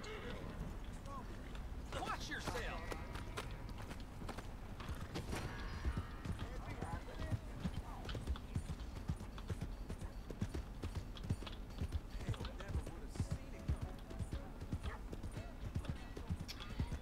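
Horses gallop in the video game Red Dead Redemption, a continuous rapid drumming of hooves with an occasional whinny, fairly quiet, while a person talks over it.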